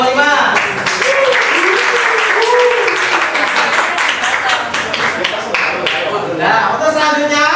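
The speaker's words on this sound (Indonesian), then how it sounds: "Sekali lagi tepuk tangan buat kelompok 5." Students in a classroom clap for a group after its presentation, loud continuous applause mingled with chatter and voices.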